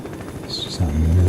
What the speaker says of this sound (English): It's just a military helicopter.